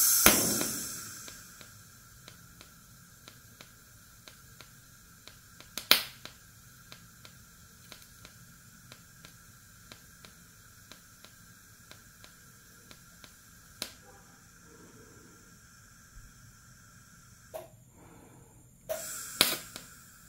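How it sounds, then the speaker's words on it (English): Tack welding on chrome moly tube produces a few sharp crackling snaps and brief bursts, spaced irregularly over a faint steady hum in a quiet workshop, with the loudest pops at the start, middle and end. "Still not too sure how the welding comes up on video"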